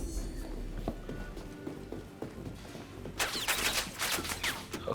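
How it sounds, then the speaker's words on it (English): Gunfire in the video game Star Citizen during a contested control point battle, with scattered shots early and then a dense, loud burst of rapid fire in the final two seconds. "lots of gunshots."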